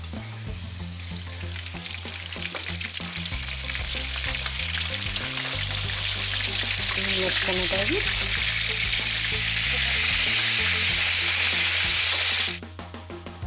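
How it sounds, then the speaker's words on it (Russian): Bream fish ribs fry in a pan with a constant close sizzle that grows louder before cutting off near the end; a brief word of speech is heard over the frying. "Ребрышки жарятся."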